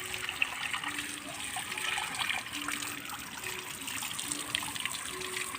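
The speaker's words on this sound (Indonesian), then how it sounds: "Ini cuci tangan lagi aja." Water from a tap running steadily while hands are washed, a soft continuous trickling splash heard fairly quietly, with a faint tonal hum in the background and no clear talking.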